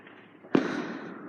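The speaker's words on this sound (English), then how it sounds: "won't have you listen to all these booming explosions any longer" Fourth of July fireworks explode in a loud, sharp boom with a long rumbling tail, and a second booming blast follows about three-quarters of a second later, with nobody speaking.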